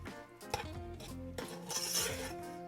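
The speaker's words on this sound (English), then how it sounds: "Stir this together, and we'll have our beautiful topping for our cake." Brown butter, sugar and vanilla topping stirred in a pan for a pineapple upside-down cake, with metal utensil scraping and clinking against the pan in an uneven rhythm under a steady kitchen hum.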